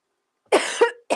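Two harsh coughs close to the listener, the first a long rasping hack, followed by the start of another cough.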